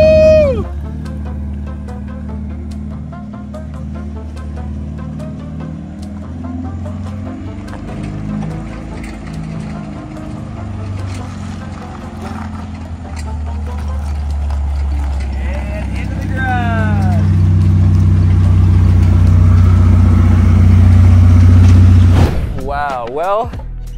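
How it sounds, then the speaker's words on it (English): A cheap, older Ferrari rolls along with no driver at the wheel, its engine a low, steady rumble that swells toward the end before cutting off, with voices now and then. "Ghost ride a Ferrari, let's go. It's like a self-driving Ferrari."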